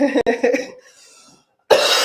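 A person coughs a few times in quick, harsh bursts, goes quiet briefly, then breaks into another loud cough.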